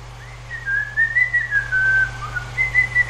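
A person whistles a wavering, sliding tune, close and clear, with a steady low hum in the background.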